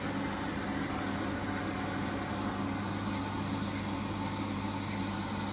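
A steady low mechanical hum of a water pump running continuously, with a constant broadband whir and no voices.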